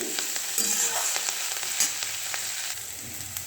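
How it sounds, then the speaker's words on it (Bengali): Onion stalks, potatoes and chilies fry in a pan with a steady, close sizzle and a few soft scraping stirs, and no one speaks. "দেখো এবারে ফ্রাই করছি, ফ্রাই হোক ততক্ষণে।"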